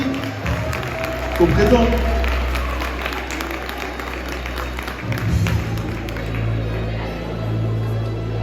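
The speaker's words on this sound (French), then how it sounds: "Lamine Camara et Anaïs Cause, élus de la jeunesse. On peut applaudir aussi." An audience applauding youth councillors at a town hall event in Grigny, a swell of clapping that rises and then thins, with a brief spoken phrase and crowd murmur mixed in.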